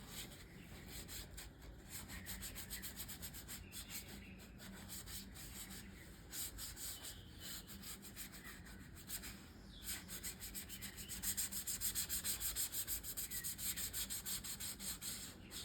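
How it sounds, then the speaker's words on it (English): Sandpaper scuffs the finish of leather in steady, close back-and-forth rubbing strokes, quiet but continuous, with slightly harder strokes toward the end and no talking. "I'm only trying to scuff it, just get it broke open."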